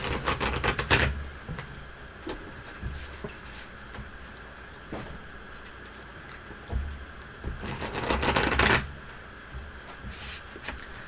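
Two quick riffling bursts of cards being shuffled, near and crisp, separated by quieter handling sounds and light tapping.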